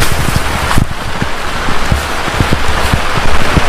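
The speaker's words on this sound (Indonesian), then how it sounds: "Wah, hujannya lumayan gede ini, bukan gerimis ini tapi hujan." Heavy rain pours steadily over rice paddies near a mountainside, a dense hiss broken by frequent close drops striking a nearby surface, with no speech.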